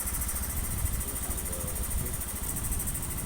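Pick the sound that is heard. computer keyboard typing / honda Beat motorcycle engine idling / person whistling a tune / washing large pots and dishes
honda Beat motorcycle engine idling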